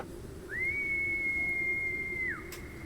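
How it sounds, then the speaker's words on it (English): A single clear, steady whistled tone held for about two seconds, rising in quickly and falling away at the end, alone over a quiet background. "He whistles and the sound lingers."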